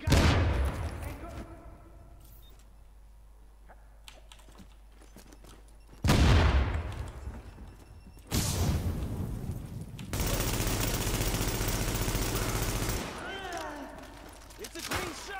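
Gunfire in The Division, with bursts of loud shots and sustained automatic fire separated by quieter gaps, plus faint clicking and a speaking voice.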